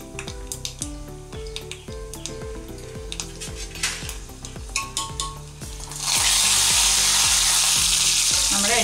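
Mustard seeds, urad dal and chana dal crackle and sizzle in hot oil for a South Indian tomato chutney tempering, with a steady stir of tapping before a loud burst of frying hiss swells up near the end.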